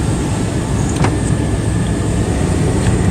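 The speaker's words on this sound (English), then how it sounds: "Windows work." A car's electric power windows run with a steady motor whine over a constant loud rumble of engine and surroundings, with no talking.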